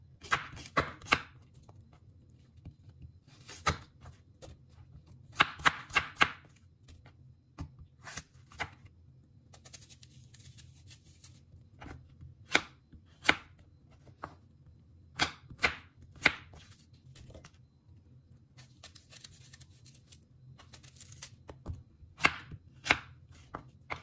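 Knife chopping apples on a cutting board in a home kitchen, with irregular clusters of crisp, close taps spread across the clip and quiet gaps between bursts, no voices.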